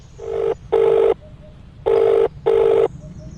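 A phone rings for an incoming call in a repeating two-burst pattern, loud and close, with short pauses between the rings and no voices over it.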